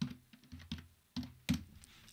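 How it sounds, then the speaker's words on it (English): A password is typed on a computer keyboard with a short, uneven run of soft, close key taps in an otherwise quiet room. "I'm going to type my password in."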